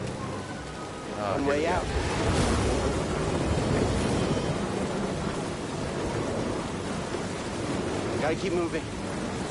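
Steady rainfall in Jedi: Fallen Order, a continuous wash of rain with rumbling thunder underneath that lasts throughout at an even level, with a character's voice and other voices speaking over it.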